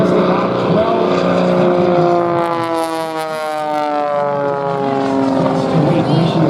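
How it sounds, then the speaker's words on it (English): Single-engine aerobatic airplane with a Lycoming AEIO 540 Thunderbolt piston engine at an airshow, droning loudly and steadily with a rising and falling propeller tone as it passes, while a voice speaks over it. "5 horsepower from a single Lycoming AEIO 540 Thunderbolt engine"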